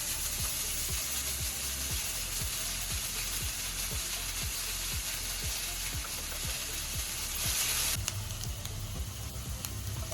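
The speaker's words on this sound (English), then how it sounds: "Once the oil is hot, I'm adding half onion finely chopped" Finely chopped onion sizzles steadily in hot oil in a pan, a dense continuous crackle with a faint regular ticking underneath, close and fairly loud throughout.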